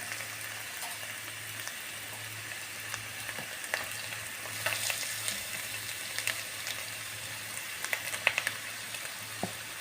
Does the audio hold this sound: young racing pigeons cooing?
no